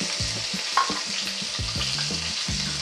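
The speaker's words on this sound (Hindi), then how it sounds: "और पहले टमाटर को भूनने दूँगी।" Tomatoes fry in a pan with cumin, a steady crackling hiss with soft scraping and clinks of stirring underneath.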